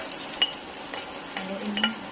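Pechay greens dropped into a pan of sardine stir-fry, giving soft rustling and a few light clinks over a low cooking hiss, close and fairly quiet.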